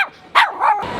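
A puppy at a crowded Hong Kong street market gives a single close, high yip that rises into a short whining bark, loud and alone in a brief burst.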